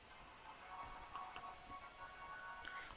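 Steady patter of rain falling in a Pokémon White video game, a soft continuous hiss with faint synthesized game music tones running underneath, fairly quiet throughout.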